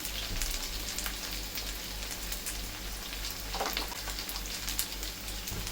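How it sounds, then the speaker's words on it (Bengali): Sago vadas frying in hot oil give a steady, faint sizzle with fine crackling throughout, alone and without talk. "দুদিকে কিন্তু খুব ভালো করে ভেজে নিতে হবে"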